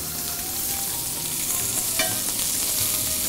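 Steak sizzles steadily in a hot pan with butter just added, a continuous close, even frying hiss with a brief brighter crackle near the middle and no voices.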